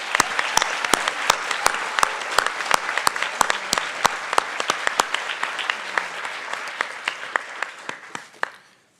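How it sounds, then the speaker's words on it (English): Audience at a university 3-Minute Thesis competition applauding the presenters, steady clapping with sharp individual claps standing out, gradually fading toward the end. "A round of applause for all of our presenters."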